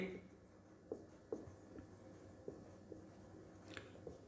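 A pen or chalk writes out a derivative step in a math lesson, making faint scratchy strokes and light taps at irregular intervals, quiet and close, while a teacher talks.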